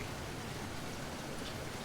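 Tropical storm ambience of heavy, steady rain, an even broadband wash of falling water at moderate level with no voices.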